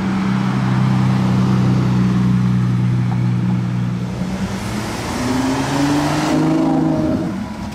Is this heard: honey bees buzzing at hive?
no